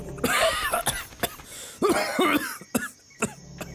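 Several sharp, harsh coughs close by in a cough syrup advertisement, coming in separate bursts with short pauses between them, the middle fit the loudest.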